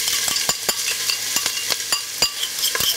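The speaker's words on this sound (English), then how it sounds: "So we're just gonna fry that off till it's tender." Onions, garlic, thyme and chili frying in olive oil crackle with a steady close sizzle, broken by regular scraping stirs of a utensil against the pan.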